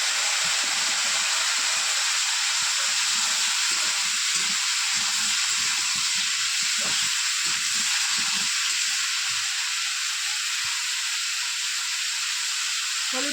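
Greens and potatoes land in hot oil seasoned with five-spice, green chili and onion, sending up a loud, steady hissing sizzle that holds evenly from start to finish with no one speaking.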